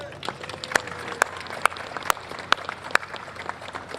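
Applause from an audience at a formal ceremony aboard the Intrepid Sea, Air & Space Museum in New York, a crowd clapping steadily with several sharp, louder claps standing out at roughly half-second intervals.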